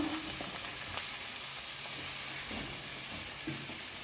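Ingredients for adai stirred and sautéed in hot oil, a steady sizzle with occasional scraping stir knocks, close and moderately loud throughout.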